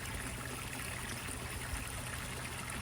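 A pump draws water from a backyard pond through a hose, giving a faint, steady rushing trickle with no pauses.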